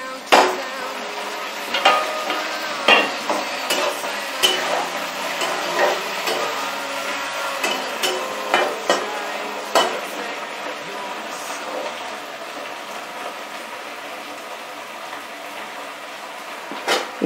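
A spoon stirs potato, cauliflower and tomatoes frying in a pan for a wedding-style aloo gobi, giving a run of sharp clacks and scrapes at an irregular rhythm that thins out toward the end.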